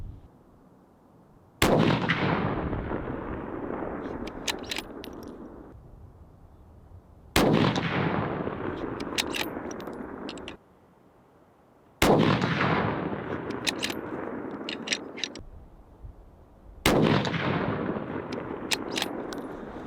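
A Howa 1500 rifle fires four single shots at a target, evenly spaced. Each loud crack is followed by a long rolling echo that fades before the next shot.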